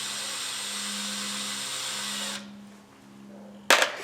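A power drill runs steadily as bolts are driven down on a Suzuki Bandit 1250 engine cover, a close whine that stops after about two seconds, followed by a sharp clack near the end.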